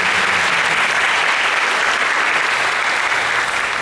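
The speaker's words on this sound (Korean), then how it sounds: "우리 다시 한번 박수로" A church congregation at a youth worship service applauds a musical ensemble, a brief, loud and dense burst of steady clapping that fills the hall evenly throughout.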